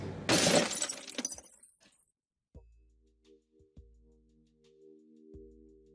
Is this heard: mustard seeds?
no